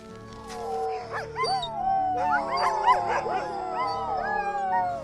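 Several dogs on a polar expedition howl together in the evening, with overlapping, wavering, rising and falling voices and a few yips, close and steady throughout.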